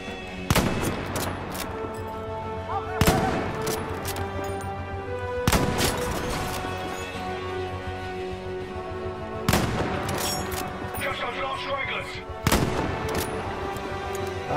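Bursts of automatic gunfire from Battlefield V gameplay, with several sharp volleys spread across the stretch and sustained rattling shots between them, loud and close with dense overlapping reports.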